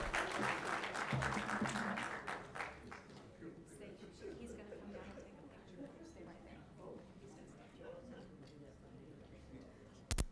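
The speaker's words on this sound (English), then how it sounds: "Another round of applause for our happy birthday recipient." An audience at a regular council meeting claps for a birthday honoree; the clapping is fairly full at first, then thins and fades beneath ongoing talk and room noise, ending in a brief loud bump.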